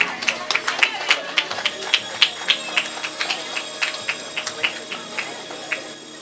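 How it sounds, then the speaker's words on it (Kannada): Steady applause from an audience at an honouring ceremony during a community mud-field sports festival, many hands clapping in a brisk, even patter that holds for several seconds at moderate loudness. "ಜೋರೈನ ಕೈ ಚಪ್ಪಾಳೆ."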